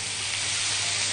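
Meat sizzles loudly as it hits a pan of frying onion and garlic, a dense, steady hiss filling the whole brief moment with no voices.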